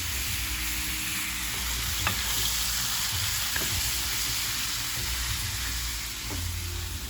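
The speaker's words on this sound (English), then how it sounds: "now I'm gonna fry my chicken and my shrimp together" Steady, loud sizzling of chicken and shrimp frying together in a pan, with a few faint clinks of a utensil; no talking.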